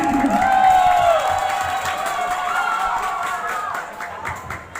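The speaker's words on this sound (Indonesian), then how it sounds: "Tepuk tangan." A crowd claps and cheers at a 2021 school literacy event at SMAN 1 Sukaraja, Sukabumi. The applause is loud at the start and tapers slightly, with tonal sounds running through it.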